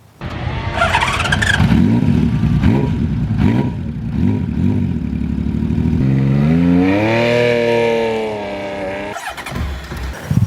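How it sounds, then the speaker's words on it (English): A Honda CBX motorcycle engine cranks and fires up, then revs with rising and falling whine, loud and close, ending in a sharp burst. "If you've never heard a Honda CBRX firing up, it's incredible."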